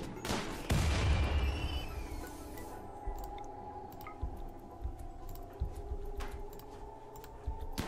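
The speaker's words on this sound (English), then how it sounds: "Throw grenades at it! Grenade!" Grenade explosions in the video game RimWorld open with a heavy blast and rumble that fades away, followed by scattered sharp pops and thuds of gunfire at irregular intervals, with no voices.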